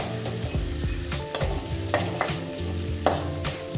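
A chicken marinade with spices and salt is stirred in a bowl, giving close, soft wet squelching and scraping in an irregular rhythm for a few seconds, with no talk.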